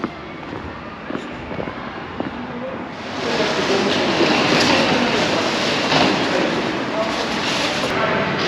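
A train at a railway platform in Mainz, its broad rumbling roar swelling in after a few seconds of quieter station ambience and then holding loud and steady to the end.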